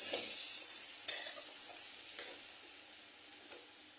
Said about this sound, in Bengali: আঁচটাকে কমিয়ে রেখে, একদম কম না, একটু মিডিয়াম করে রেখে কন্টিনিউ নাড়তে হবে